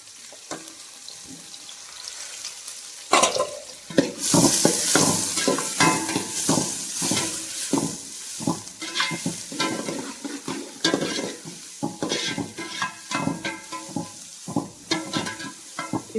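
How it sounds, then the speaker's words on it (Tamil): Onions with garlic, curry leaves and coriander stir-frying in a pan for a crab-style curry, a steady close sizzle with repeated scraping stir strokes that grows louder partway through and keeps going, with no talking. "வெங்காயம் நல்லா வதங்கி வந்துருச்சு."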